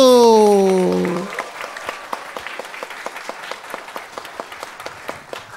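A sustained voice fades out, then a church congregation claps in a steady rhythm, the applause filling the room at moderate loudness.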